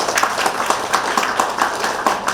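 An audience claps at a book launch event, a steady run of applause with rhythmic bursts of individual claps, moderately loud and without speech.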